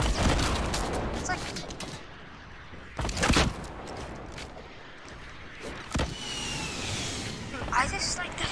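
Repeated gunfire from Fortnite weapons crackles in bursts, with sharp shots standing out around the middle and near the end, mixed with background game noise and a player's voice talking excitedly over it.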